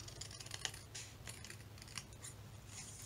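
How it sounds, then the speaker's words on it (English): Scissors trimming the edge of a folded sheet of paper, a few crisp close-up snips and cuts with slight rustling between them, no talking. "I'm just going to trim the edge."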